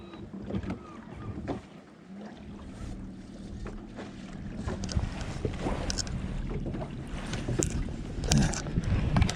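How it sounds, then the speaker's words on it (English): A fishing boat moves slowly on a trolling motor across Lake Lanier on a windy winter day, following a hooked striper. A steady low drone and water wash run throughout, heavily buffeted by wind noise, with no talk. "We're just following him with the trolling motor."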